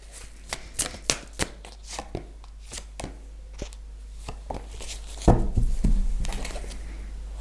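Tarot cards shuffled during a reading, heard as a run of crisp, separate riffling and slapping clicks up close, then a denser continuous shuffle toward the end, with no talking.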